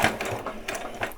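A sewing machine stitches along a fabric hem for a Halloween dress, a short run of quick mechanical clicking and whirring bursts in an uneven rhythm, close and moderately loud with no voices.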